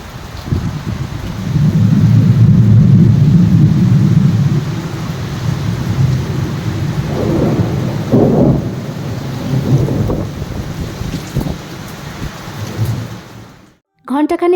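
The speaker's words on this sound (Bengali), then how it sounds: "ভীষণ ঝড়। তাড়াতাড়ি উঠে সব দরজা জানলা লাগালাম, ততক্ষণে বৃষ্টি শুরুও হয়ে গেছে।" Heavy storm rain pours down steadily with deep rolling thunder rumbling through, strongest early on and easing slightly later, a continuous near wash of rainfall that cuts off briefly at the very end.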